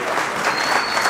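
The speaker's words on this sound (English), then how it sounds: "Let's give these people a round of applause." Brief burst of crowd applause for donors pledging money at a Miami charity gala, dense and continuous clapping from a room full of people with no voices over it.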